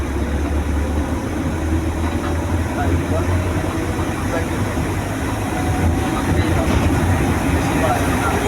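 Manual car engine rising steadily as the accelerator is gradually pressed during a driving lesson, a loud continuous drone with an instructor's voice giving directions over it.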